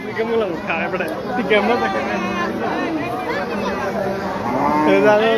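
Cattle low repeatedly at a busy cattle market at Mannan Nagar Chowrasta in Noakhali Sadar, their moos overlapping steady crowd chatter and babble throughout.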